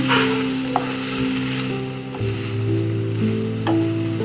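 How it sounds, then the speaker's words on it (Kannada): Coriander leaves wilt in a hot pan while cooking for a mushroom gravy, giving a soft, steady close sizzle with a few light clicks and a low background hum, and no talking. "ಕೊತ್ತಂಬರಿಯನ್ನು ಸ್ವಲ್ಪ ಫ್ರೈ ಮಾಡ್ಕೊಡೋಣ"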